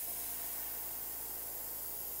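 An airbrush sprays a light, steady coat of gold paint onto a topwater pilchard fishing lure, giving a continuous soft airy hiss with no gaps, close and even throughout.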